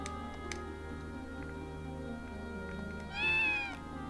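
A short cat meow from the Breath of Fire IV video game rises over steady game music and ambient tones, one brief call near the end of the passage.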